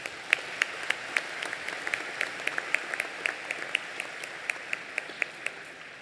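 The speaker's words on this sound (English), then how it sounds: "Let's give them all a round of applause" Audience applause at a high school graduation convocation, a steady wash of many hands clapping with sharper individual claps standing out, moderately distant and filling the hall without voices.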